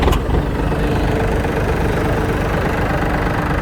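A Yanmar F195 mini tractor's small diesel engine idles close by, a loud, steady, knocking chug that runs evenly throughout.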